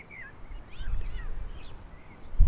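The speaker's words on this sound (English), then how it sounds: "it sounds like I've got a bird sat next to me, but they're quite some distance away." Birds call outdoors near bushes, giving a few thin, faint chirps and whistles at a distance over low rumbling background noise, with a soft thump at the end.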